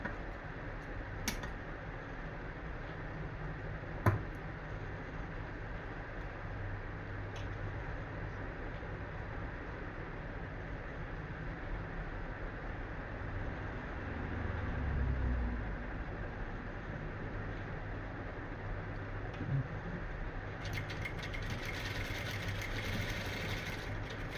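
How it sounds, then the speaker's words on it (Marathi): A domestic sewing machine runs a second line of stitching along corded piping on a blouse, a steady low mechanical whirr with faint ticking that continues evenly throughout at moderate level, with no voices. "तर मी ह्याला डबल शिलाई मारते."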